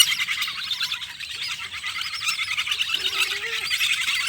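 Young pet birds at a breeding setup squawking and chirping rapidly in a busy, continuous chorus close by, with one lower call rising near the end.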